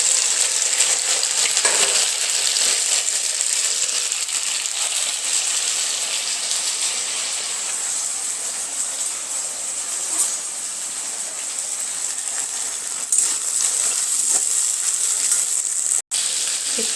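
Taro pieces frying in hot oil: a steady, loud, close hiss and crackle of sizzling that holds evenly throughout with occasional small pops and no talking.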